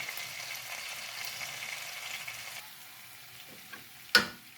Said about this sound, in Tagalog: gisa ko naman siya ngayon dyan